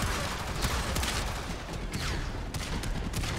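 Gunfire in the Warframe shooter game, a dense crackling volley of shots with several sharper bursts standing out over a constant noisy din.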